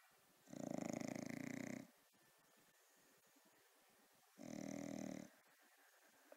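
A sleeping bulldog snores in two long, loud rasping breaths separated by a quiet pause, heard close up in an otherwise silent room.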